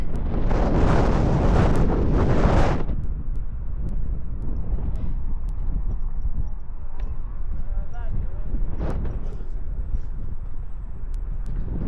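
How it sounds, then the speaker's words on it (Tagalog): Loud wind buffeting a microphone outdoors in a park in New Zealand for a few seconds, then easing to a steady rushing gust with faint background noise. "Lakas nga lang ng hangin. Lakas ang hangin mga kapinboy."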